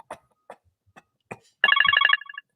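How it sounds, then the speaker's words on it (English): A telephone rings once in a rapid, bright electronic trill lasting about half a second, preceded by a few brief, faint sounds. "I just heard the phone ring, man."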